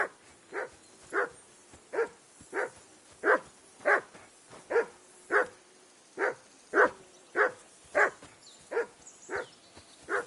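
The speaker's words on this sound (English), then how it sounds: "Whistle at that mutt of yours to stop barking." A dog, a mutt in Kingdom Come Deliverance 2, barks steadily about twenty times at a regular, brisk rhythm, each bark short and clear at middle distance, with no voices present.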